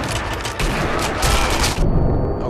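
Blind-fire gunfire in Sniper Elite V2 at the Tiergarten Flak Tower, loud overlapping bursts of shots rattling continuously for a couple of seconds, then cutting off abruptly.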